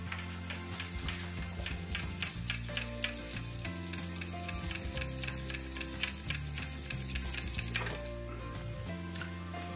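A Stuart S50 model steam engine, missing a gasket, runs on very low pressure with a rapid, regular rubbing chuff-and-click rhythm repeating for nearly ten seconds at close range, no one speaking.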